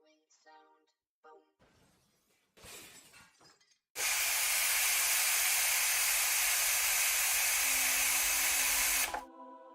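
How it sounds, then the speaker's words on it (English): A loud, steady hissing spray like water from a hose bursts in and runs for about five seconds before cutting off, preceded by brief scattered tones and rustles. "Maybe like a water spraying sound effect. That'd be pretty good. Like from a hose."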